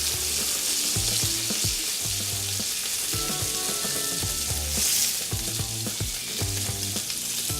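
Pork loin searing in a hot pan, a loud, close sizzle with repeated knocks and scrapes as the meat is turned and moved, and no talking.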